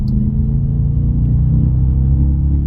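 A deep, steady Audi S5 V8 engine rumble, loud and close, holding a low throaty drone throughout with a slight rise in revs.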